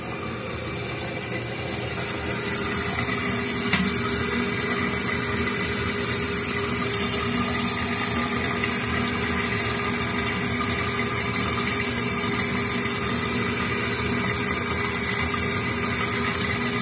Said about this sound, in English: Bowl filling up.